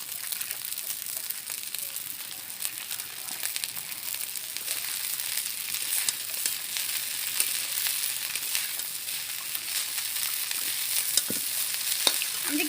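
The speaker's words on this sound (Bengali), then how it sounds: "এবার আমি এটাকে ভালো করে ভেজে নেব" Boiled Gobindobhog rice ghugni frying in a pan, with a continuous crackling sizzle and steady stirring scrapes that grow slightly louder toward the end.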